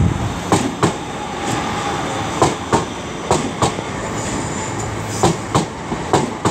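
A Class 323 electric train passes through Aston station, its wheels beating out a steady clickety-clack of paired rail-joint clicks at a moderate, even pace, fairly close, with no talk.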